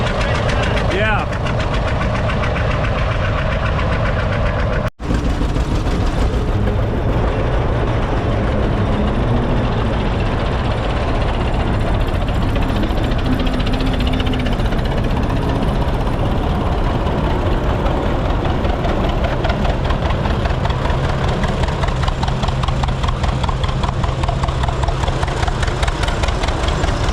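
An old Farmall C tractor engine chugs and idles steadily nearby at a steam show, a continuous rough rumble with people talking over it.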